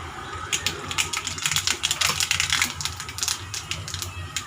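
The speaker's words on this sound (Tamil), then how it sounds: "அதே எண்ணெயிலே கடுகு போட்டுக்கலாம்." Mustard seeds splutter and pop in hot oil left over from frying appalam, a dense, continuous crackle of sharp little pops, close and loud throughout with no speech.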